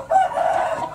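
A rooster crows once, loud and close, in a coop of fighting and ornamental chickens, with faint clucking around it and no speech.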